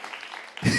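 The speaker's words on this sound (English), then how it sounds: "Give a big round of applause for our brother Eric, man." Audience applause breaks out at a poetry open mic, rising suddenly near the end after a brief murmur, close and full.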